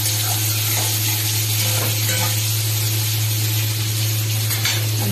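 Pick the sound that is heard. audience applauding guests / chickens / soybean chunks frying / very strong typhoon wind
soybean chunks frying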